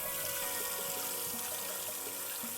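Warm tap water running through a film developing tank during the wash stage of film processing, a steady close rushing and trickling flow that holds evenly throughout.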